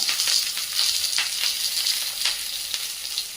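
Mustard seeds, curry leaves, green chillies and lengthwise-sliced onion frying in hot oil in a kadhai, a steady dense sizzle with crackling pops throughout, close and fairly loud, no voices.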